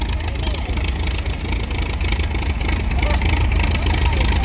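An International tractor built in Bradford rumbles with a steady, loud, close engine drone at a vintage show, running throughout with no clear change in pace.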